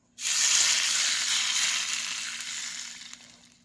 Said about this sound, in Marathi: असं गरम केलेलं तेल जर आता ह्या ओतलं की नाही ह्याला चांगली फोडणी बसत्या